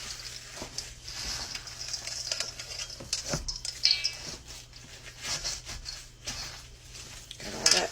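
Hand-mixing a homemade bacon burger patty mixture with crushed crackers, eggs, spices, garlic and sauces: soft squelching and rubbing sounds in an irregular rhythm, close and fairly quiet, with no talking.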